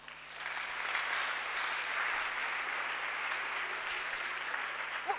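A church congregation claps and cheers in acclamation of the Lord during a Sunday worship service, a dense, steady wash of applause sustained throughout without a break.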